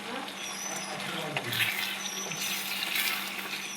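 Water pours and splashes into a cooking pot of curry with fried potatoes and ground nut-coconut paste, a steady close trickle with a few clinks.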